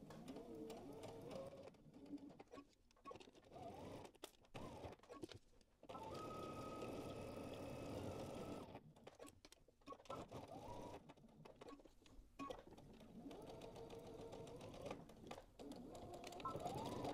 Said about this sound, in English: now we're going to go ahead and stitch our collar together